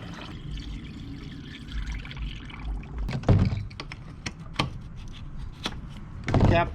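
Distilled water is poured into the coolant overflow reservoir of a BRP Can-Am Maverick X3 side-by-side, a soft steady trickle with a few sharp plastic clicks and knocks close by, no talk.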